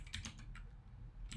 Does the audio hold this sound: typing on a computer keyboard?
yes